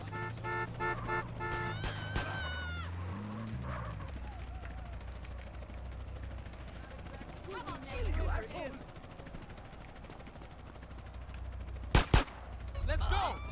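Gunfire in GTA Online or GTA San Andreas: scattered bursts of shots, some sharp and close, others fainter, mixed with game noise while several people talk over it.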